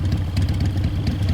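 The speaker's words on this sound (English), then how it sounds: "Cut the engine. They'll hear us." A vehicle engine idles in Metal Gear Solid 3, a steady low chugging rumble with a slight clatter, close and continuous with no voices.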